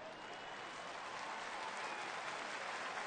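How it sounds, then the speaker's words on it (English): A stadium crowd at a 2010 college football game between TCU and San Diego State applauds steadily as an injured player sits up, a dense, even wash of clapping that holds at moderate loudness throughout, with no voices standing out. "that's what gets everybody here collectively to exhale and applaud"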